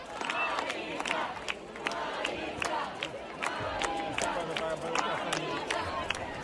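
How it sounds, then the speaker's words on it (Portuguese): A large concert crowd of thousands cheers and shouts at a free outdoor show as a Brazilian singer takes the stage, a dense, steady roar with scattered whoops and claps throughout. "A plateia vibrou e se empolgou."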